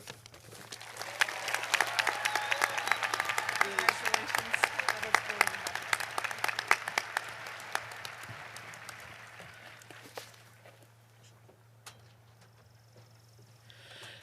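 Audience applause at the Roanoke College commencement, a large crowd clapping steadily over a low hum, then fading to scattered claps and quiet room noise.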